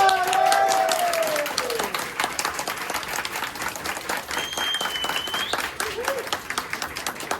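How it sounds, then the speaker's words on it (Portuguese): Applause from an audience at a comic book launch event, steady and dense clapping that starts loud and continues throughout, with a whistle-like tone briefly over it. "E uma salva de palmas!"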